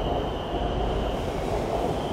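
A crowded passenger train in Bangkok gives off a steady rumble and a constant high electrical whine, with a loud, even drone and no clear speech.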